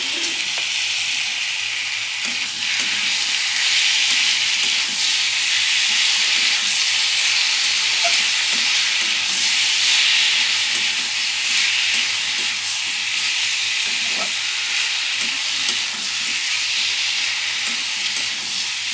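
Tomato sizzles in a hot pan, giving a loud, continuous hissing crackle that holds steady for the whole stretch, with faint stirring taps and no voices.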